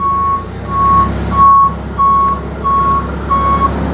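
A forklift in reverse sounds its warning alarm, a loud, evenly spaced series of six beeps over a low steady engine idle.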